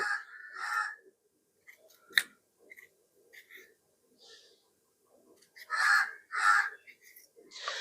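Harsh crow caws come in short bursts, two or three at a time, separated by quiet gaps with faint clicks and taps.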